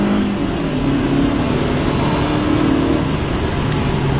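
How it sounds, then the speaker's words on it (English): A Mercedes-Benz C230 Kompressor's supercharged four-cylinder engine revving hard and accelerating, a loud, continuous mechanical roar close to the microphone. "Hit it, supercharger spools right up,"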